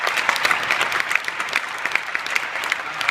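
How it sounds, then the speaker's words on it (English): Steady audience applause during an acceptance speech, a dense wash of many hands clapping at an even level from start to finish, with no talk over it. "so that deserves a round of applause"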